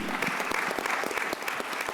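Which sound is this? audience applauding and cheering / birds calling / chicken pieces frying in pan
audience applauding and cheering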